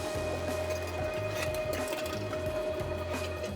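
Meat grinder doing a fine grind of pork sausage mixture, a steady whirring motor hum with a rhythmic chugging pulse, close and fairly quiet, with no talking.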